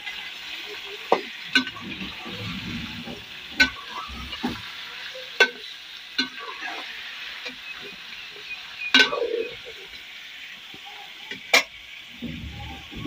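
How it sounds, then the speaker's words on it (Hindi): Chicken pieces fry in a pan over browned onions, giving a steady close sizzle with sharp clicks and scrapes of stirring scattered throughout. "चिकन नू अच्छी तरह फ्राई कर लेने"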